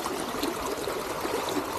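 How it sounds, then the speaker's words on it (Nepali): Rainwater from a heavy black-rain downpour in Hong Kong flows and trickles away in a steady, close, continuous watery rush with no pauses. "यो पानी सर्लकै उता जानु पऱ्यो है योबाट"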